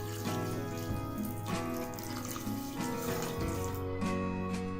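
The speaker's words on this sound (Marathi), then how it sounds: "त्यामध्ये आता साखर बुडेल एवढं पाणी घालायचं आहे." Water is poured into a pan over about a quarter kilo of sugar to make syrup for boondi laddoos, a steady close trickling with faint tonal clatter throughout.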